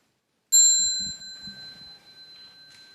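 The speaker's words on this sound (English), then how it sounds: "So now we hear one sound of small bell." A single strike of a small mindfulness bell during a meditation retreat ceremony rings out clearly and close, its pure sustained tones slowly decaying over a few seconds, with faint low murmurs and movement beneath it.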